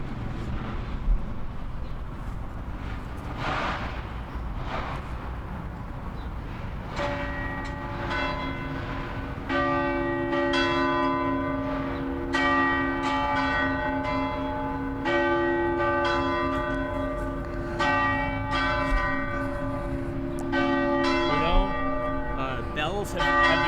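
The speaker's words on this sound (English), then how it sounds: "I love those bells" Church bells ring outdoors in a long sustained peal, overlapping tones and clangs building and repeating, fairly loud and resonant over background ambience and faint voices.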